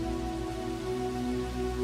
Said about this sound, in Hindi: शाम होते होते बारिश कुछ कम हुई, पर पूरी तरह बंद नहीं हुई थी